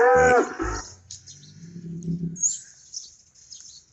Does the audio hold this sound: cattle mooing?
yes